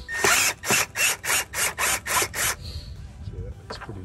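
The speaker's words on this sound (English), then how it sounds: "we're going to use a Phillips head screwdriver in this case to just loosen that up" A Phillips head screwdriver loosens a clamp on a rubber boot over the mass airflow sensor of a Toyota Prius, heard as eight regular, close ratcheting turns, then a brief quiet scrape and a tap.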